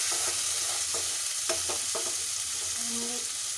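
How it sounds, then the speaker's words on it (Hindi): Chopped tomato sautéed with peanuts in a pan for a potato chaat, a continuous close sizzle broken by spoon scrapes and stirring strokes. "इसको हम अच्छे से भून लेंगे।"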